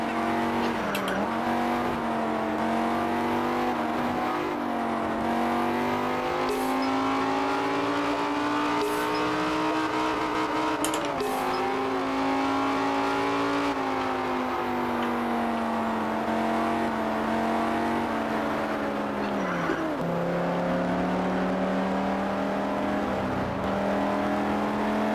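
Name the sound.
car engine revving in a video game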